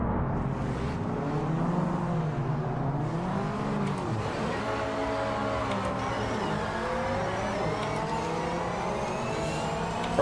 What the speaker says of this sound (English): I don't know where I'm supposed to be revving it to launch this one.